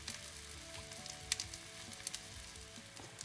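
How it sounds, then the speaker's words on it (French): Nutella-and-banana samosas fry in hot oil in a pan, giving a soft, steady sizzle with a few sharper crackles and pops, all fairly quiet and close. "faut surtout bien laisser chauffer l'huile dans la poêle pour entendre ce petit bruit"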